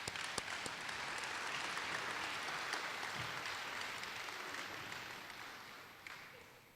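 A middle school awards audience applauds its student winners: steady, even clapping from many hands that holds for several seconds and slowly tapers off.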